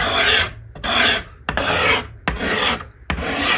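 A card scraper burnished with an Accu-Burr pulls shavings from a wooden board in five steady rasping strokes, each a loud broadband scrape with brief pauses between, close and alone.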